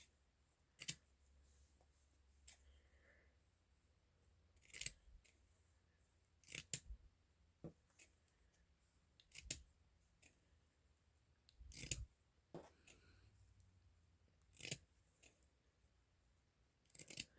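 Scissors snip through parchment paper in sharp, separate close clicks, about ten cuts spaced irregularly across a quiet room.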